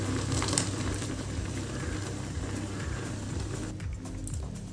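Poha kheer bubbling in a pot on the stove, a steady dense simmering burble with small pops, close and continuous throughout.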